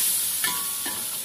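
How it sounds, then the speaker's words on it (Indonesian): Food sizzles steadily in a hot pan while being stir-fried with sugar and sweet soy sauce, with a couple of soft scrapes of a spatula against the pan over the constant frying hiss. "Kita oseng sampai dia harum dan berubah warna."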